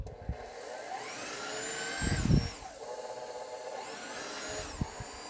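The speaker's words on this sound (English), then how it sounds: "Okay, now we're going to crank this up. And we're going to turn them both on." KitchenAid and WonderMix stand mixers run together at speed, giving a steady motor whine with rising pitch sweeps as they are turned up, plus a brief louder knocking burst from the bowls partway through, close and continuous.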